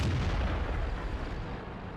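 A heavy tank cannon fires in World of Tanks: one loud, deep boom at the start with a rumbling tail that fades slowly over two seconds.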